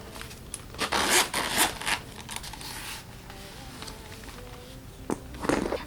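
The zipper on an undyed leather Galen Leather pen case is pulled open in several quick, raspy bursts, close but fairly quiet, with faint handling rustles between pulls.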